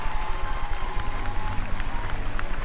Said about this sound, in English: Another big round of applause for all four of them